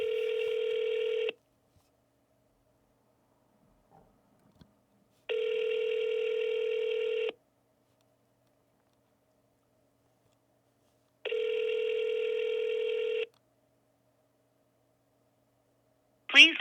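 An outgoing telephone call rings through a handset as three evenly spaced ringback tones, each about two seconds long with long silent gaps between them, followed by a brief voice at the very end.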